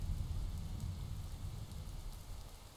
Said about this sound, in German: Und bald ist Regen überall. Es prasselt laut und doll auf die Blätter hernieder